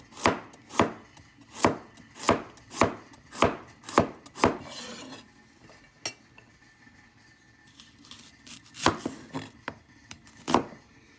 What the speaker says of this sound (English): The carrot, I can cut it slanted.